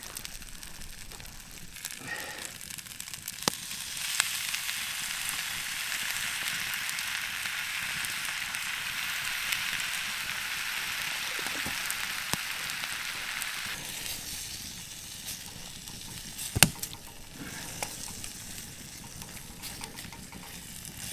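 Pre-cooked pasta fries in a pan over a campfire outdoors, giving a steady close sizzle and hiss with occasional clicks and clatter from stirring.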